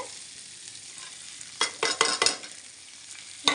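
Tomato and coriander fry together in a pan for a banana stem curry, a soft continuous sizzle overtaken midway by a quick burst of loud scraping stirs, then one more scrape at the end.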